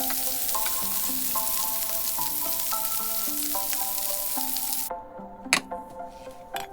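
Kebab meat sizzles on a hot griddle with a steady, close frying hiss over a background of music, quieting toward the end as a few sharp clatters and scrapes break through.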